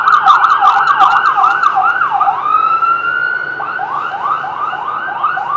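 An ambulance siren sounds loud and near, first with rapid yelping sweeps, then a steady wail, then fast yelp cycles again, with no talk over it.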